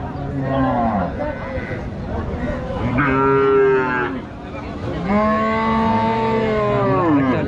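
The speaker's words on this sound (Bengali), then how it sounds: "চারি সাইডে হাম্বা হাম্বা ডাক দিচ্ছে" Cattle low repeatedly at a busy Rajshahi livestock market: several long, loud moos from nearby cows over a constant hum of crowd chatter.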